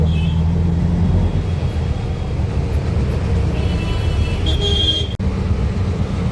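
Steady low rumble of congested road traffic with engines idling close by, and a short hiss like an air brake near the end.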